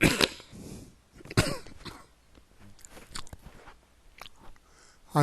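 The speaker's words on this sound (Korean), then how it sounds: "기침이 더 심해지는 것 같아." Several harsh, close coughs, two strong bursts followed by smaller rough throat sounds and shuffling noises.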